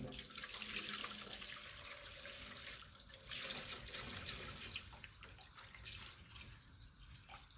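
Tap water runs steadily into a container being rinsed out, splashing and gurgling close by with shifting flow and occasional drips, no voices.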